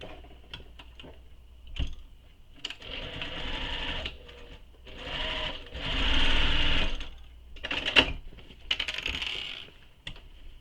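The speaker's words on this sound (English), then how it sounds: "you're going to sew directly on that seam line." A sewing machine stitches along the drawn seam line to form the box corners of a fabric handbag, whirring in several short runs of a second or two separated by pauses, close and clear.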